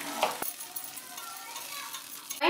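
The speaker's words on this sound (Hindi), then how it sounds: "अच्छी तरह से मिक्स करेंगे।" Tomato puree red sauce with chili flakes being stirred in a pan for pasta, a soft, steady sizzle with a brief utensil knock near the start and a louder scrape at the end.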